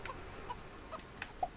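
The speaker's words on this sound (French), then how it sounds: "Je suis une poule, mesdames et messieurs, c'est historique." Chicken clucking from the video game Mini Ninjas, a few short faint clucks scattered across the moment, with the louder final cluck near the end, over a quiet game background.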